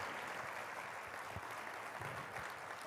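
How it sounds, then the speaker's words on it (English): An audience gives a round of applause at a talk on food waste, producing a steady, moderately distant patter of clapping that holds even throughout. "Let's give them a round of applause."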